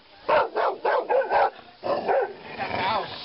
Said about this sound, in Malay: Tengok anjing.